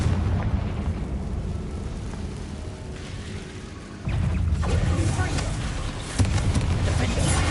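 A Confringo blasting spell goes off in Hogwarts Legacy on PlayStation 5, a loud broadband blast that rumbles under a dense layer of game noise and music, swelling again a few seconds later as a second impact lands, with a voice speaking over it.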